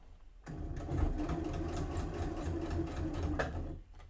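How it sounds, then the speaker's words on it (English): A sewing machine stitches a tie-shaped keyring in one continuous run of about three seconds, a close, rapid mechanical whir that starts and stops abruptly, with no talking. "Needle down, lift, spin, trap and sew."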